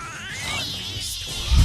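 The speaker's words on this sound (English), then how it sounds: "the cat meows for like 12 seconds" A cat meows in a drawn-out, wavering call that rises and falls, fairly close and clear, ending with a low thump.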